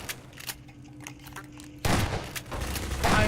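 Gunfire in the Prop Hunt video game breaks out as a sudden loud burst of rapid shots after a quieter stretch of soft clicks, then continues in dense volleys.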